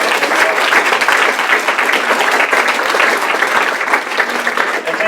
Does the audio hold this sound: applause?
yes